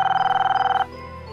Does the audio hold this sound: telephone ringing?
yes